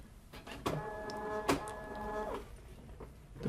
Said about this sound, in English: The printer will take a moment and it will detect what ribbon is being used.